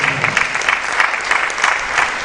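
Audience applause after a public lecture at the official opening of a faculty law clinic, a steady, dense clapping from a large crowd that holds for the whole stretch with no talk over it.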